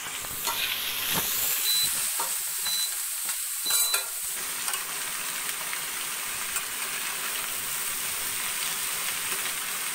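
Finely chopped pointed gourd and snake gourd frying in a pan, a steady close sizzle with a burst of stirring and clattering early on, then settling into an even hiss.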